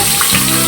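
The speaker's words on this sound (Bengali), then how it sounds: "ভালো করে আলুগুলো সব আমি ভাজা করে নেব।" Potatoes frying in a pan give a brief, loud, even sizzle up close.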